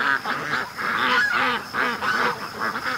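Muscovy ducks call in repeated hoarse, breathy bursts close by outdoors near water, several overlapping calls in an uneven rhythm.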